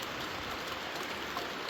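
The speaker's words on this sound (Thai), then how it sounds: "ฝนตกแนวนี้เนาะทุกคน" Steady rain falls in a rural village in southern Laos, a dense, even hiss of drops close by that holds without a break or any voice.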